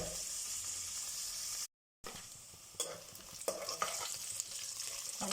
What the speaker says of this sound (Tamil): ஆனியன்ஸும் பிரியாணிக்கு வதங்குற மாதிரி நல்லா கோல்டன் ப்ரௌனாக வதங்கட்டும்.